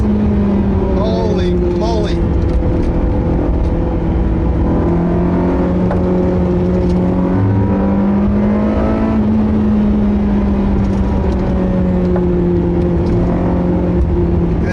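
Inside a sports car on an uphill road, the engine roars continuously, revs rising and falling through gear changes with rev matching, while a man exclaims briefly over the sound.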